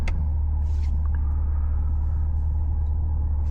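A C8 Corvette's engine holds a steady, loud, deep rumble with the brake held for launch control, droning continuously up close with no talk.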